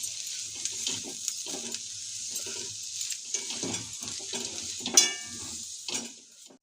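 Cut leftover rotis fry lightly in a pan with a soft, steady sizzle, punctuated by faint stirring scrapes and a single sharper metallic clink from a utensil against the pan.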